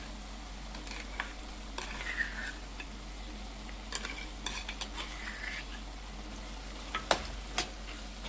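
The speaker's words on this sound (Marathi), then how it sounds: "मिनिटं अजून थोडंसं हलवून आता आपण याच्यात खवा घालूया" Carrot halwa with khoa is stirred in a pan, a soft continuous sizzle broken by repeated scraping and clicking strokes of a spoon against the metal, close and unhurried, with a low steady hum underneath.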